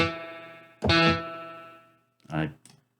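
A Spitfire Audio LABS software instrument rings out with a long reverb tail, sustained tones decaying gradually, then a second brief phrase with a shorter wash of reverb; no talking.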